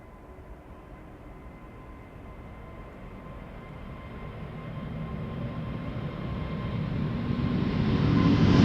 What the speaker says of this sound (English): Here it comes, Delta Airlines flight 75 to Atlanta, Georgia, A350-900